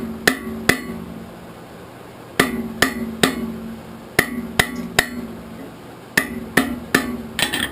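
Sharp hammer blows on hot steel being cut off over a hardy while forging a socket arrowhead, ringing strikes in uneven bursts of two to four with short pauses between, close and loud.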